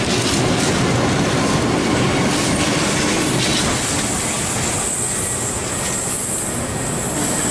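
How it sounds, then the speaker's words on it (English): A Sydney Trains V set running as empty cars roars past a station platform, loud and close with continuous rumbling wheels, clattering rail joints and some wheel squeal, no voices. "We have a V set passing platform number 2."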